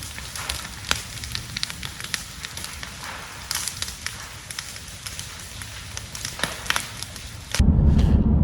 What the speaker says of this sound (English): the fire was so close I could hear it crackling